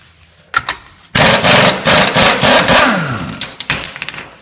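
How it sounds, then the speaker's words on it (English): An impact wrench spinning the front axle nut off a VW Golf MK4 with a 30mm 12-point socket, a loud rattling, hammering whir lasting a couple of seconds after a few brief clicks, then trailing off with clanks. "take a 30mm 12-point socket and take the nut completely off"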